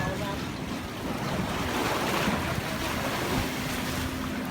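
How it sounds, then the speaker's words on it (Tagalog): Strong ocean waves surge and wash continuously at a cliff diving spot, a broad steady roar mixed with gusty wind buffeting the microphone, loud and close with no talking. "Ang lakas pa ng alon."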